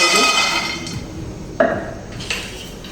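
Roasted chickpeas (futane) are tipped into a metal pan in a home kitchen, giving a short rattling clatter followed by a couple of sharper metallic knocks and scrapes.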